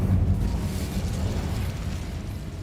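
An Incendio fire spell is cast in Hogwarts Legacy, giving a loud, dense, rumbling whoosh of flame that roars steadily throughout with a slight fade, with no voices over it.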